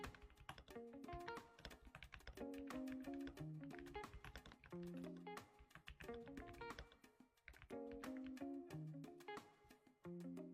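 Typing on a stock Kemove T68E mechanical keyboard, quick bursts of crisp close key clacks with short pauses between runs, alone and fairly quiet.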